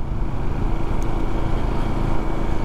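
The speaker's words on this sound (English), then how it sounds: "listen to the engine, get used to the noise it makes" A learner's LXR motorcycle idling and revving during a riding lesson, a steady loud buzzing engine drone held without a break, close to the rider, with no voices.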